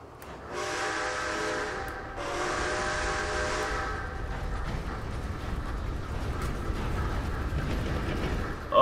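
A train in the video game Red Dead Online sounds two long, loud horn blasts, then a steady rumbling roll continues on its own with no talk.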